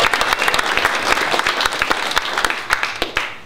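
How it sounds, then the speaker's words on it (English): Audience applause at a Santa Cruz talk on ending the NDAA: a dense, steady round of many hands clapping, fairly loud and close, with no voices. "We can give them a round of applause."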